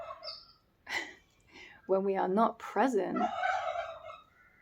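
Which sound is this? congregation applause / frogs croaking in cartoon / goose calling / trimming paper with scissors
goose calling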